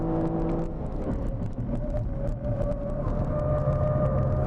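A Kia Stinger drives laps on the Inje Speedium race track, its engine droning steadily at close range from inside the car, with a constant whir and rumble.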